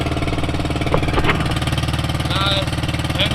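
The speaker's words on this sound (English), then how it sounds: "there is an engine" A fishing boat's engine chugs on a rural Philippine fishing trip, a fast, regular mechanical pulsing close to the listener, with brief voices and knocks over the steady beat.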